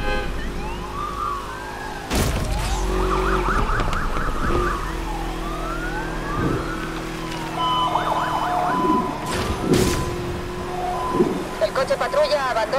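A police car siren wails in the Need for Speed video game during a high-speed chase, with repeated rising and falling whoops over engine roar, crash hits and radio chatter, and voices talking through it.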